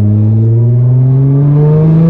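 A Nissan GT-R R35 accelerates hard from close by in sport mode, its engine note a loud, smooth drone that climbs steadily in pitch across the whole stretch.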